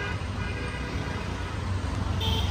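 Street traffic in Dhaka, Bangladesh: a steady engine rumble from nearby vehicles, a short high tone near the end that may be a horn, and a busy, unbroken background with no clear talk.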